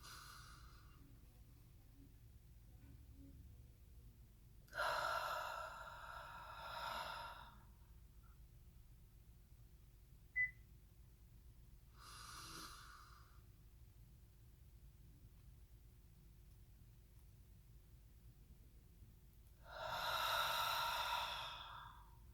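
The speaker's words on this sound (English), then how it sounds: "It's a very deep, intense, intentional breath." Deep, intentional breaths come slowly and close to the microphone, four drawn-out inhales and exhales separated by long quiet gaps over a faint steady hum.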